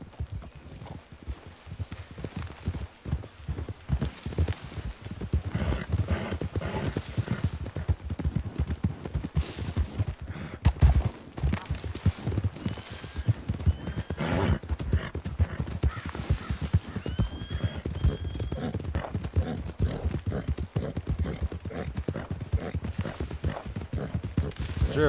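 Horses gallop near a hillside, with dense, rapid hoofbeats and occasional whinnies filling the scene at steady loudness throughout, no speech heard.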